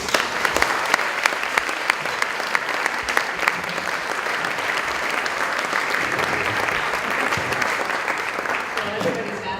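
An audience at a university symposium applauds steadily to welcome the keynote speaker, a dense, sustained clapping that holds evenly for the full stretch with individual claps popping out near the start.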